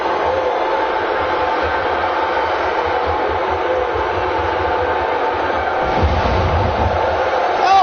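A steady, dense roar of video game wrestling crowd noise fills the whole stretch, with a slight surge near the end.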